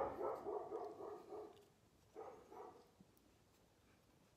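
At night a pet dog barks at intruders on its territory, a faint, distant run of repeated barks followed by a short pair of barks, with no talk.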